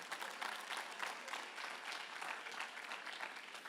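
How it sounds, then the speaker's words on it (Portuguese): Church audience applauding steadily, a dense wash of many hands clapping at moderate volume throughout, with no speech over it. "Um aplauso para a Flávia aí, gente"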